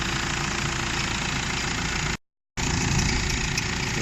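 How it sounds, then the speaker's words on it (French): Alternator pulley on a Nissan Navara D40 with a suspected seizing fault turns steadily with the engine running, giving a loud, continuous mechanical drone and rumble, briefly cut by a gap of silence midway before resuming. "Là, c'est la poulie d'alternateur qui tourne là."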